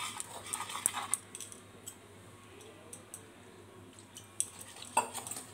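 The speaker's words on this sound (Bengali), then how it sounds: "খুব ভালো করে আমি ফেটিয়ে নিয়েছি" Gram flour, rice flour and turmeric batter is whisked in a bowl, giving soft, irregular clicks and taps of the utensil against the bowl, with a few sharper knocks standing out from a quiet background.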